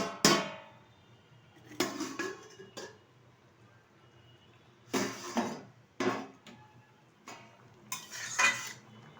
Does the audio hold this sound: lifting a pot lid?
yes